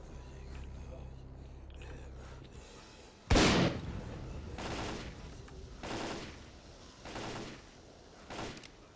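Shotgun firing in S.T.A.L.K.E.R.: Call of Pripyat, one sharp loud close blast followed by several more evenly spaced, somewhat softer booming shots over a low ambient game background, with someone talking in between.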